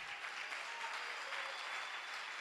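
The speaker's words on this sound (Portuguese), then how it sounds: "Pode aplaudir mais forte." A church congregation applauding, a dense, even wash of many hands clapping continuously, moderately distant and soft, with no clear voices.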